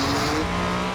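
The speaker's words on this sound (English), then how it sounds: "Just keeps revving. The noise is sensational." Mercedes-AMG One hypercar with its 1.6-litre F1-derived V6 engine revving hard and continuously, a loud, dense, sustained roar with steady high harmonics and no pauses.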